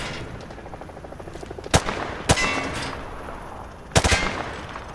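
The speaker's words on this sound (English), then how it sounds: "Grab that weapon off the table and fire at the targets behind you." Gunfire at range targets in Call of Duty Modern Warfare 2 Remastered, with several sharp shots and short bursts over a low game ambience.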